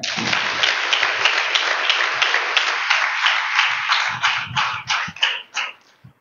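A church congregation claps loudly in a dense, sustained roar of hands that thins toward the end into a few scattered, louder individual claps, heard up close.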